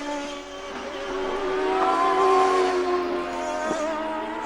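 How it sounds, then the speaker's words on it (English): A CART race car on a qualifying lap at the Mexico City circuit, its engine a sustained tonal whine rising in pitch and loudness before easing off, heard from onboard over a steady rumble. "This is Jimmy Vasser in the shell car for Team Rahal"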